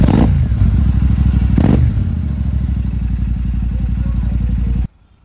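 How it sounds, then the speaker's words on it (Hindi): Royal Enfield Shotgun 650 motorcycle fitted with aftermarket AEW exhausts, idling with a deep, lumpy rumble and blipped twice in sharp revs near the start, then settling into a steady loud idle before cutting off abruptly. "तो मैंने लगवाए हैं इसके अंदर AEW के शॉटगन वाले ही जो एग्जॉस्ट आते हैं"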